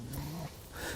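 Dogs in a garden during tomato transplanting, a short close growl and whimper sliding into a whiny yip, alone without talk.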